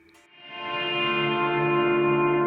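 An electric guitar chord runs through a Line 6 Helix bloom reverb, the wet tail swelling up from near silence over about a second into a loud, smooth, sustained wash of ringing harmonics with no voices.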